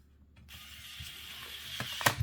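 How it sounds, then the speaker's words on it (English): Small screws being driven back into the shell of a New 3DS XL during a touch screen replacement, giving a quiet close-up run of ratcheting mechanical clicks that ends in a few sharper taps. "Now, yeah, you just put all the screws back in."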